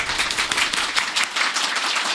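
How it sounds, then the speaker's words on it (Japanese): Audience applause at an anniversary event for a film talk show, a dense burst of many hands clapping close and loud, continuous for the full stretch with no voices over it. "もうたくさんの皆様の拍手ありがとうございます"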